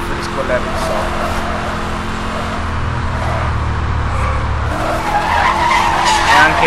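Dodge Charger drifting in Need for Speed Hot Pursuit, a loud continuous tire skid over a steady engine drone that swells toward the end, with someone talking over it.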